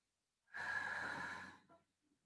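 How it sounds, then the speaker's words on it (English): A single long, forceful breath, an exhale lasting about a second, is heard close up and on its own during a core exercise workout. A few faint softer breaths trail after it. "Keep breathing."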